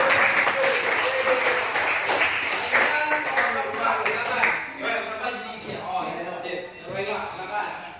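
Classroom applause during a social studies lesson, a loud burst of clapping from students that tapers off over several seconds, mixed with overlapping voices and chatter.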